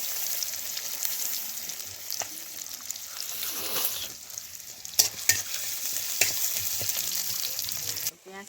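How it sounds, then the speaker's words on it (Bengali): About 150 grams of chopped onions, four or five, fry in a pan with a steady sizzle and repeated stirring scrapes, broken by a few sharp spatula clinks before cutting off abruptly at the end. "পেঁয়াজটা ভাজা হয়ে গেছে"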